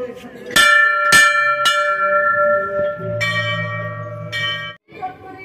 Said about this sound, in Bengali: এদিকে আমি সেই ঘন্টাটা একটু বাজিয়ে দিচ্ছি